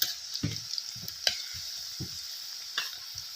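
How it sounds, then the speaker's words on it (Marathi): Alu vadi, rolled colocasia leaf slices, fry in hot oil with a steady close sizzle, broken by several soft clunks and scrapes as the pieces are turned in the pan. "आता मी तेलात तळून घेते"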